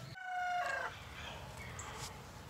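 A rooster at a chicken swap gives a loud, close crowing call lasting about a second, followed by quieter outdoor background noise.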